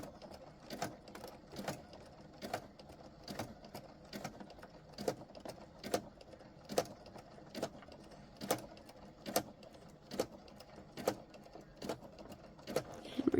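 A sewing machine stitches a jelly roll fabric rug around a curve, its needle thumping in a steady repeating rhythm of sharp mechanical bursts over a low motor hum, close and clear with no talking.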